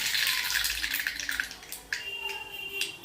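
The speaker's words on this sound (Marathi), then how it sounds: "मोरी छान तडतडली आहे" Mustard seeds crackling and popping in hot oil for a tempering over dhokla, a busy hiss of bright spattering with scattered sharp pops, steady and close, no one talking.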